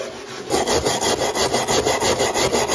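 A bronze brush scrubs wooden furniture being cleaned, giving a steady rhythmic rasping, back and forth in quick even strokes, close and loud with no talk.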